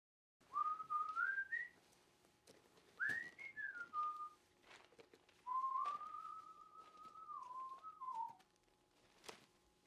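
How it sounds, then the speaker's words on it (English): Someone whistles a slow, wandering tune in three phrases, clear and close, with a few sharp clicks and knocks between them. "Was he whistling?"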